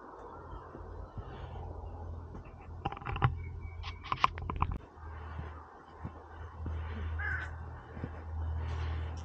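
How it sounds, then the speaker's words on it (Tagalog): Crows caw repeatedly in a forest near a mountain peak, a cluster of sharp calls in the middle over a steady low rumble of ambient noise. "Naririnig nyo ba yung kwa, kwa, kwa. Mga ibon yan."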